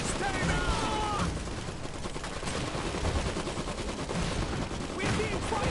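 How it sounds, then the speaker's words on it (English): Dense, continuous rapid gunfire from the real-time strategy game Iron Harvest 1920, a loud sustained battle din of volleys and machine-gun bursts with voices shouting over it. "We're being fired on!"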